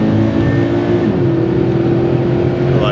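Subaru BRZ accelerating on a race track, a loud, continuous engine drone climbing steadily in pitch from inside the car.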